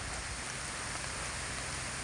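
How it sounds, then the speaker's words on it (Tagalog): Light drizzling rain makes a steady, even hiss with no break and no voices, outdoors. "Lakas ng ambon Brad."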